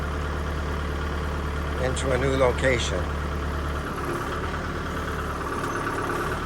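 A tractor fitted with a backhoe idles with a steady low engine drone throughout, while someone talks briefly over it.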